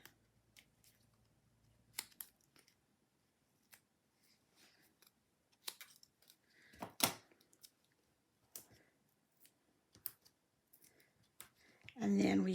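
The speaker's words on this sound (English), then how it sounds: "I'm going to turn this over, and I'm just going to cut some pieces." Scissors snip through pieces of foam tape for a dome candy holder card, producing a scattered series of short, crisp, quiet cuts and clicks against a near-silent background, with a louder rustle at the end.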